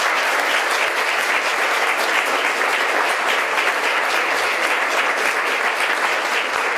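A large crowd at a town hall meeting about the Irvine 11 verdict breaks into loud, sustained applause, a thick, unbroken roar of many hands clapping at a steady level from start to finish.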